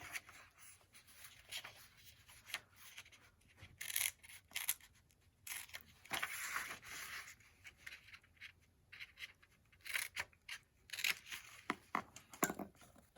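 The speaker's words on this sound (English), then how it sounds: "Then we cut it out." Scissors snipping out a paper turkey beak for a Thanksgiving craft, a run of short crisp cuts and paper rustles in irregular bursts, close and fairly quiet, with no talking.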